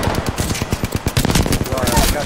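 Automatic gunfire in Apex Legends, dense rapid bursts of shots filling the whole moment, loud and close, with a player's voice talking over the shooting.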